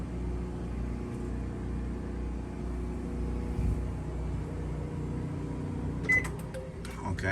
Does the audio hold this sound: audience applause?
no